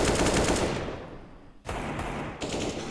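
AK-47 gunfire in Counter-Strike: rapid automatic bursts, loud and close, with a brief pause before shooting resumes, and no talk over it.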